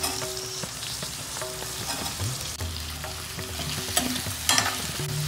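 Capsicum in three colours is stir-fried with onions in a pan, making a continuous close sizzle broken by repeated scraping and stirring strokes, with no voices.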